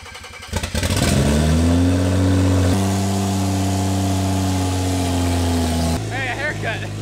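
A rebuilt BMW 335i N55 engine with only a downpipe cranks, fires and settles into a loud, steady idle close by, the pitch stepping up once, with a voice speaking briefly near the end.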